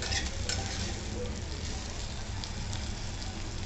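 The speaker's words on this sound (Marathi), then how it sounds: "अशी तेलावर अशी छान परतवून घ्यायची" Okra (bhindi) sautéing in hot oil with a steady, dense sizzle and occasional stirring scrapes, close and continuous throughout with no voices.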